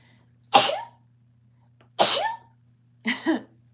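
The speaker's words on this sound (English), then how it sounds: "Ooh, I feel another sneeze." Three sharp sneezes spaced about a second and a half apart, each a loud explosive burst, the last one split into a quick double, over a faint steady hum.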